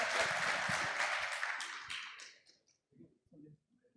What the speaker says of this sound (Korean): 저희 박수 한 번만 주고 잘하라고